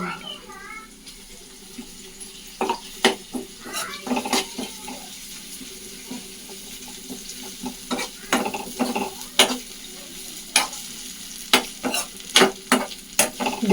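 Ginger garlic paste fries in a hot pan with a steady low sizzle, broken by repeated sharp clinks and scrapes of a spoon stirring against the pan.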